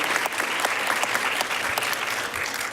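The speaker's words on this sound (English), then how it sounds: "we can please clap for" An audience claps for students receiving superintendent awards: steady, dense applause of moderate loudness that continues evenly throughout without pause.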